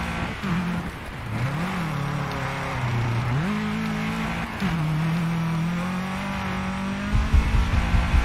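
A DiRT 2 rally car engine races through the last corners of an X-Games Europe event, pitch rising and dropping with gear changes, steady and close, alone with no talk.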